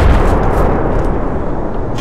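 Heavy mortar and cannon fire in Arma 2, booming explosions rolling together into a continuous loud barrage with no clear gaps and no voices.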